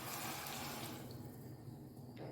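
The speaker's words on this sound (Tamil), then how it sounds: "இப்போது அதுலேயே வந்து தண்ணி சேர்த்துக்கலாம்" Water pours steadily into a pot of black chickpea curry, a continuous close splashing and hissing that shifts slightly in tone near the end.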